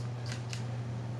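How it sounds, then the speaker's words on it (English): Snips cut the rubber boot on the inner joint of a 2008 Acura MDX front axle, making two quick, crisp snipping clicks close by against a steady low hum. "you can kind of get your snips right in here"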